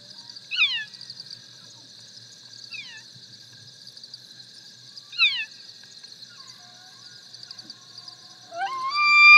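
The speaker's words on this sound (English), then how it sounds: "Works great for animals too. Here are some elk from 300 feet away." Distant high-pitched elk calls from about 300 feet away, rising and falling squeals repeating a few times over a steady high whine, ending in a louder rising bugle.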